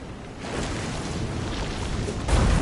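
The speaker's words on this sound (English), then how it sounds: "This is some storm." A storm rages in the video game Visions of Mana, a dense broadband roar of rain and wind with a deep, heavy rumble of thunder building toward the end.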